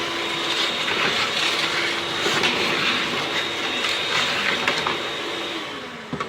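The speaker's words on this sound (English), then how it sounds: "I'll vacuum this up, you know, the grate, the log rack." A vacuum cleaner sucks up ashes from a chimney grate and log rack, a loud, steady roar with a faint whine running throughout, no voices.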